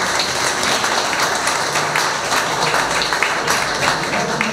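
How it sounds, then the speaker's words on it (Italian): Warm applause from an audience at the opening of a political campaign committee in Mazara del Vallo, steady dense clapping throughout with no pauses. "facciamo un caloroso applauso"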